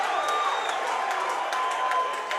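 A crowd at a sold-out Team Combat League fight between the Boston Butchers and DC Destroyers cheers and roars in a steady, dense wash of noise, with faint whistles and whoops rising above it.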